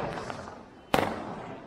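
A Diwali firecracker goes off close by with one sharp, loud bang that rings out briefly, over a steady wash of distant crackling and festive background noise.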